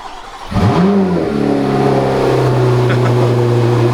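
A C8 Corvette ZR1 engine cranks and fires up on a cold start with a loud rising roar, then settles into a deep, steady, rumbling high idle close by.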